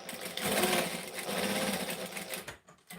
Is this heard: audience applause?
no